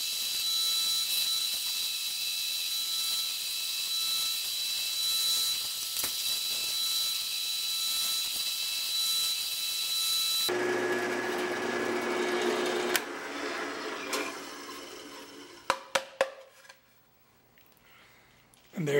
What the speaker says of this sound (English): I've got this set up to where it's like a 3/8 Forstner bit. And it'll just go about 3/8 of the way down.